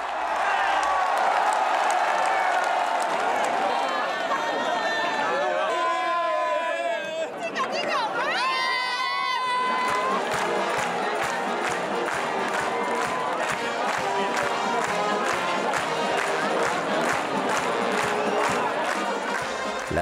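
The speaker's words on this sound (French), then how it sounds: "Lorsque le but est atteint, la foule se déchaîne." A dense crowd roars and cheers wildly at the Sant Joan horse festival in Menorca, a loud continuous wall of shouting and whistles with rhythmic clapping and chatter throughout.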